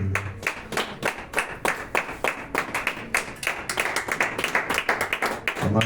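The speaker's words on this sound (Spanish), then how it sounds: "Vamos a darle un fuerte aplauso a Dios." A church congregation at a Spanish-language sermon gives loud, dense, steady clapping that runs the whole time, with brief low voices at the start and end.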